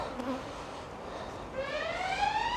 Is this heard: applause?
no